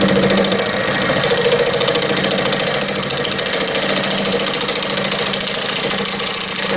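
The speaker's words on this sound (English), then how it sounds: "I'm just using my scraper right now. Nice and easy." A woodturning scraper cuts an epoxy bowl spinning on a lathe, giving a loud, steady, dense whirring and scraping drone that holds with little change from start to finish.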